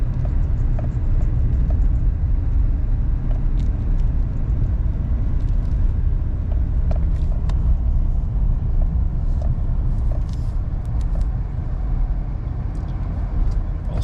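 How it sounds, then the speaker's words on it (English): A Chevy 3500HD pickup with the L5P Duramax diesel accelerates from a four-way stop while towing 14,000 pounds, a loud, steady, heavy low engine rumble filling the whole stretch with faint higher rattles. "we're rolling up to our four-way stop, so we'll do our acceleration test"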